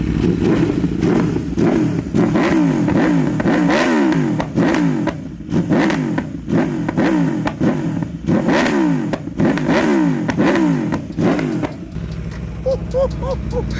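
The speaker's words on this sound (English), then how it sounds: "Let's give it some revs now." An Aprilia RSV4 V4 motorcycle with a Spark titanium full exhaust is revved hard again and again in loud surging bursts, with popping backfires crackling between revs before it settles near the end.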